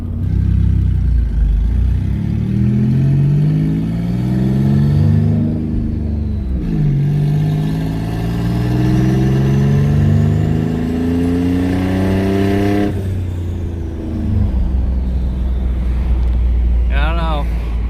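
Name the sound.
twin turbo V6 Mustang accelerating, engine revving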